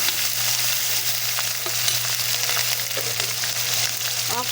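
Onion paste and ginger-garlic paste fry in a pan for a Bengali egg and brinjal malai curry, giving a steady, loud sizzle throughout with a few faint scrapes of stirring and no voices.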